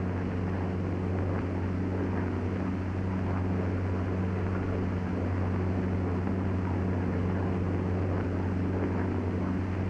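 Steady, droning engine hum of a P-47 Thunderbolt fighter plane in flight, a constant low throbbing tone held evenly and fairly distant for the whole stretch, with no voices.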